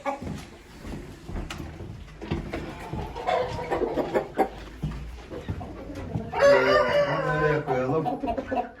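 Hens cluck and murmur nearby amid shuffling and movement, then a rooster crows loudly toward the end.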